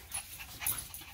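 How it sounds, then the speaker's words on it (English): Several dogs panting softly in short quick breaths with faint high whimpers and yips, quiet and close, no talking. "A lot of dogs."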